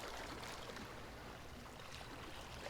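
Gentle ocean waves washing in a soft, continuous wash of hiss and foam, faint and steady with no distinct breakers and no voices.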